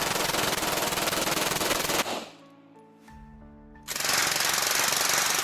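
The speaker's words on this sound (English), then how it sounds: "First gen Calico Mac, full auto." Full-auto bursts from a first-generation Calico conversion of a MAC submachine gun, fired suppressed: a long rapid string of shots, a short pause with a lingering tone, then another sustained burst, loud and close with no talking.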